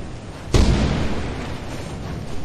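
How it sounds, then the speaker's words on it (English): A lightning strike in the video game Lethal Company hits as one sudden loud crack and boom, then a rumbling wash slowly fades under a steady background of rain-like noise. "Stupid lightning!"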